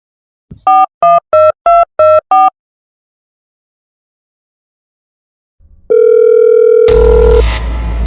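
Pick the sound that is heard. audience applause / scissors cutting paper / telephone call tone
telephone call tone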